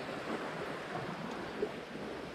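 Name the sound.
waves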